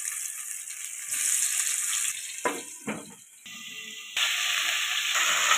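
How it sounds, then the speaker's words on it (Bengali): Bhola fish fry in hot oil in a wok, a steady loud hiss and sizzle with a few sharper crackles and clatter partway through. "কড়াইতে তেল গরম বসিয়ে দিয়েছি। তেলটা ভালোভাবে গরম করে নিয়েছি। এক এক করে মাছগুলো ভেজে নেব ভালো করে।"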